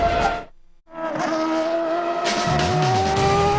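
Several CART open-wheel race cars scream around the Portland circuit during qualifying, loud high-revving engines rising and shifting pitch as cars pass close by, with a brief dip to near silence early on before the roar returns.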